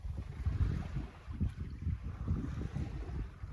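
A sailboat moves under sail at about three knots in light wind, with steady low wind rumble and water wash surging in slow waves and no voices.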